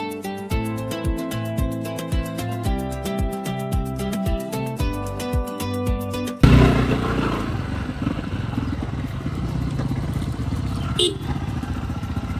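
A motorcycle ridden up a mountain road toward a waterfall: a steady, pulsing engine drone runs close and loud, then gives way to a rougher, louder rush of wind and road noise.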